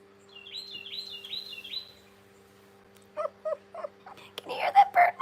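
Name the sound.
bird calling loudly outside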